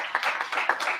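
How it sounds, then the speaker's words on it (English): A small audience claps to welcome a speaker at a pitching event: a short burst of scattered, fairly close handclaps lasting about a second. "Please, big applause."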